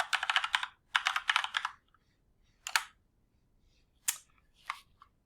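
A web address is typed on a computer keyboard: two quick bursts of close key clatter, then a few isolated taps spaced apart in a quiet room.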